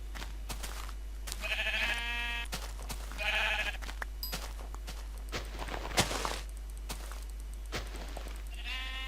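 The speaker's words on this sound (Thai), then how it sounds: "เราไปล่าแกะกันเราต้องเอาขนแกะมาทำที่นอนนะครับ" Sheep bleating in Minecraft during a hunt for wool, a few distinct nasal bleats spaced apart over soft footsteps and hitting sounds, moderately close.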